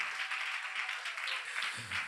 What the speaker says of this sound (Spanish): Vamos, denle un fuerte aplauso de alabanza al Señor.